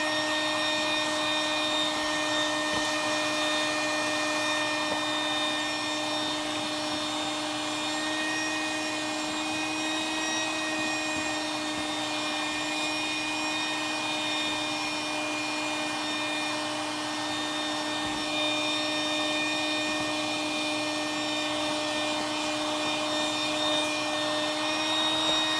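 Vacuum cleaner fitted with a Sidewinder crevice tool attachment, running as a steady, loud whine and drone without a break, close up with no talking.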